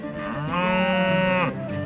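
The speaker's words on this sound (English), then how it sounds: "Cow." A single cow gives one long, loud moo near at hand, rising and holding steady before trailing off, with no talk over it.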